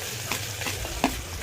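Onions frying in a pan for vegetable dalia khichdi, with a steady low sizzle and a few soft stirring scrapes, one sharper clink near the end.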